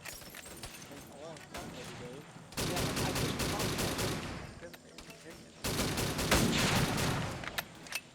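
Dense automatic-weapon fire in a video game battle set in Indochina, heavy rapid bursts that swell into loud sustained volleys with brief lulls between them, with voices calling out over the shooting.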